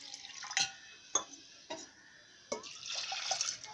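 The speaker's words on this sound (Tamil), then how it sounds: "இப்போ இதில் நான் தண்ணி ஒரு 1/2 டம்ளர் அளவுக்கு தான் ஆட் பண்ணுறேன்." Water is added by the half tumbler to red rice for puttu in a cooker: a few soft splashes and pours, then a short trickling run, all faint and close.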